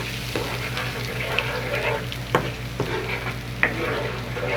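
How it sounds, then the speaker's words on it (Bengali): Chicken frying with spices in a pan, stirred continuously with a spatula. It gives a steady close sizzle with a few sharp scrapes and clacks of the utensil against the pan, and no talk. "2-3 মিনিট কষিয়ে নেবেন।"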